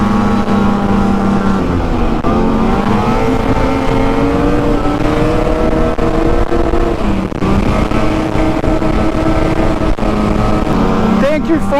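A Ski-Doo MXZ 600 snowmobile rides along farm ditches, its two-stroke engine loud and close, pitch climbing and dropping as the rider accelerates and eases off, with talk layered over it.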